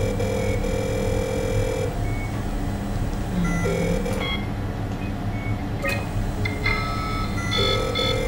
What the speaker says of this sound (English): They keep hearing the phone here.